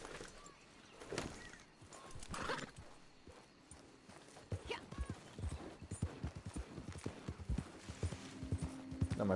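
Horse hooves clip-clop steadily in the Red Dead Redemption 2 game, a rhythmic run of thuds that grows denser and louder toward the end, mixed with occasional snorts and faint ambient sounds.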